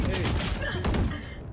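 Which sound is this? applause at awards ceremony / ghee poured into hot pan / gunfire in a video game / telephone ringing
gunfire in a video game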